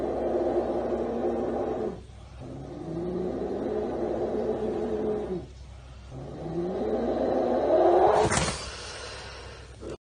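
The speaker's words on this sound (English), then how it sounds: "that's the sound of a very unhappy cobra." A king cobra's low, rumbling growl rises and falls in long sustained bursts, broken by short pauses, ending with a sharp hiss-like burst; no talking.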